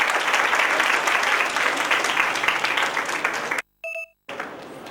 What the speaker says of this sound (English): So please welcome them with a good round of applause.